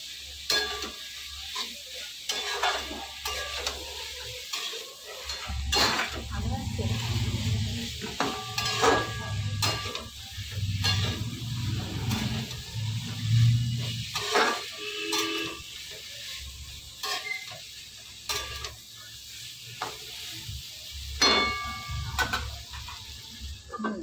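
Prawns are sautéed in a pan, with irregular bursts of spatula scraping and clattering against the pan over a low sizzle, coming and going in uneven strokes at close range.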